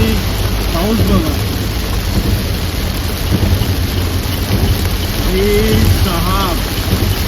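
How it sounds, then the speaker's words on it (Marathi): Heavy rain with big drops pounds steadily on a car driving along the Mumbai–Goa highway, a loud continuous wash of noise with low rumbling beneath and a voice speaking briefly over it. "काय पाऊस आहे हा यार."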